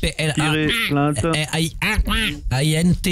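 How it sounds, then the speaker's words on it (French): Duck quacks used as a prank sound effect during a phone call, sounding in short nasal bursts mixed closely with continuous talk over the line. "vous avez un canard à côté non, de chez vous"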